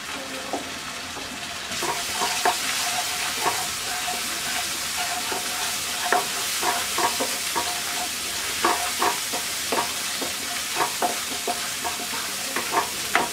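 Chilli, turmeric and coriander powder stir-fried in a pan for alu palong shaak. A dense, close sizzle runs throughout, with frequent regular spoon-scrape clicks and no voices.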